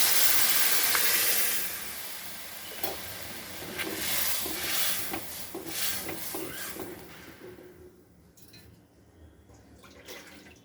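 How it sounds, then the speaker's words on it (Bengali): Cooked dal is poured into a hot tempering over a high flame, and a loud hiss and sizzle at the start settles into softer bubbling and the scrape of stirring. "এখন ডালটা ফোড়ন দিয়ে দেবো এখন ডালটা ঢেলে দেবো"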